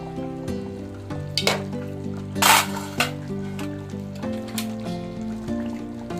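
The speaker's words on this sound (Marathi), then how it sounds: "पालकच्या भाजीला छानपैकी उभे आलेले आहे" Spinach ball gravy cooks in a wok after the lid comes off, with a steady simmering bubble and sizzle under a sustained tonal background, punctuated by a few louder bursts, close by.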